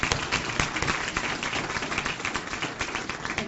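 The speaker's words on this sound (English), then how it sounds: "Let's give her a round of applause." Audience applause at a grand opening and ribbon cutting for a WorkSource center, a dense and continuous crowd of clapping hands, loud and close throughout.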